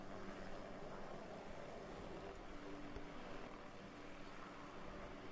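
Apache helicopter in the survival game DayZ on the Namalsk map, a steady, loud rotor and engine roar that holds constant throughout with a broad whooshing wash and no talk.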